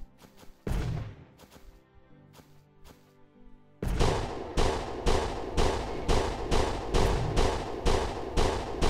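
Cannons fire in the video game Planet Explorers: a few scattered booms, then a steady barrage of loud, evenly spaced blasts about twice a second.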